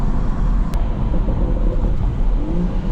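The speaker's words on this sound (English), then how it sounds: "now the pops, now the little burbles are a lot louder." A BMW M240i with a B58 engine and resonator delete runs loud and close, a rumbling drone with faint crackles and a sharp tick near the start that may be an exhaust pop.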